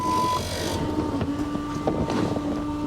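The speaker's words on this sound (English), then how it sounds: "I think that's the fuel pump making all that noise" The fuel pump of a 1979 Porsche 911 Targa buzzes with a steady mechanical hum and whine after cranking. The sound is close and continuous under a rough, windy background.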